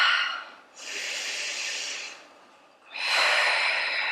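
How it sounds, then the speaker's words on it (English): Two long, deliberate breaths taken during a home stretching workout, close and airy, each a sustained rushing exhale separated by a brief quiet pause. "and breathe"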